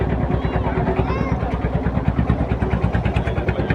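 An engine boat moves across the middle of a wetland lake thick with water hyacinth, its motor chugging in a steady, close, pulsing rhythm throughout.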